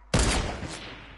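A single loud, sharp gunshot burst from a shooter video game, starting abruptly and trailing off with a short rumbling decay, with no voices over it.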